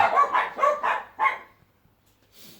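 A dog barks up close in a rapid string of about five loud barks, then falls quiet, with a faint sound returning at the very end and no talking.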